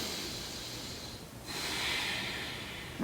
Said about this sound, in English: Nice deep breath in and out.